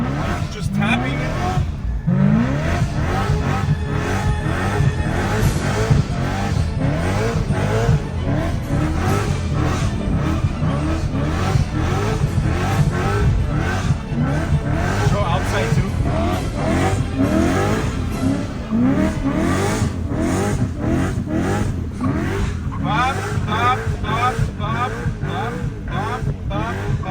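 A car spinning donuts revs in repeated throttle bursts, engine pitch rising and falling in a choppy rhythm while tires squeal continuously underneath; someone talks over the loud, close engine noise.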